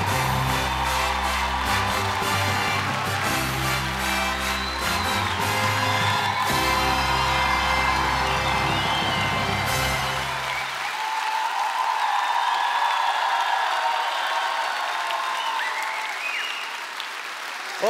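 A large crowd at a KVN comedy game show applauds loudly and continuously, with cheers and whoops rising over the clapping, while music plays underneath for the first part and then drops away, leaving the ovation on its own.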